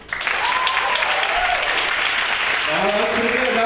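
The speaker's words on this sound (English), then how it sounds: "Big round of applause." An audience gives a big round of applause after an improv scene, dense steady clapping that fills the room, with a few voices calling and cheering over it toward the end.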